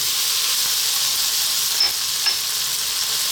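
Beef, mushroom, garlic and onion stir-frying over high heat make a loud, continuous sizzle with two quick metallic clicks of the utensil against the pan.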